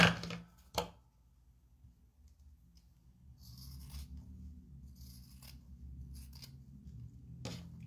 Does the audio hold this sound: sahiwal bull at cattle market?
no